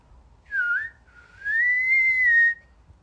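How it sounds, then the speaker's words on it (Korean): A person whistles a tune alone, a short rising phrase, a brief pause, then a longer sustained, gently wavering note, close and clear. "내가 휘파람으로 노래 불러줄게."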